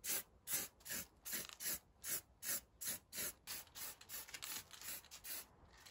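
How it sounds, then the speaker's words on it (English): Primer sprayed onto ST150 parts being prepped for a vinyl wrap: about a dozen short, even hissing bursts in a steady rhythm, close and fairly quiet, with no talking. "let's get on with painting and start with our first coat of primer."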